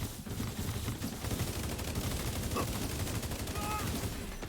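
Gunfire in The Division 2 Dark Zone, a steady dense wash of shots and combat noise running throughout, with brief radio-like voice chatter faintly over it.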